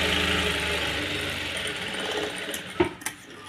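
A sewing machine stitches a princess cut blouse with a close, steady mechanical whirr that fades, then stops with a couple of sharp clicks.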